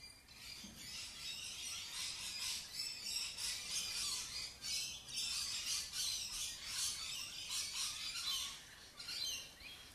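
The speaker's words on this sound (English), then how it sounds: "those are some happy birds back there right now" Birds calling outdoors in Australia, a busy chorus of squawks and rapid chirps in the background, faint but continuous, with no talking.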